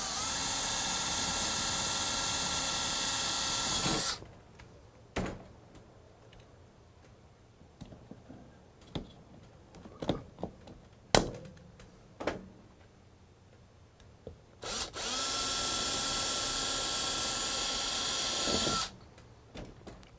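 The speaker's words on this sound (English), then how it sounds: "We're going to drill and rivet this into position," A power drill bores into a metal C-clamp on a greenhouse frame, a loud whining burst for several seconds, then sharp clicks and snaps of rivets being set, then another long drilling whine, all close by.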